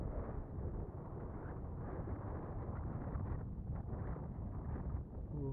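Steady, loud wind roars and buffets the microphone nonstop on a blustery day beside a lake where a Junior 60 is windsurfing, with no speech over it.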